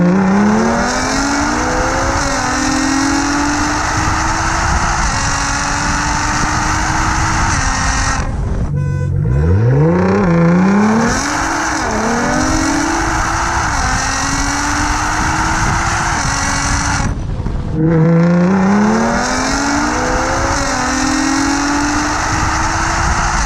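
Loud engines of a Toyota GR Supra and a Nissan GT-R roar continuously as the cars accelerate hard, with sharp gear-shift dips and rising pitch sweeps repeating, no voices.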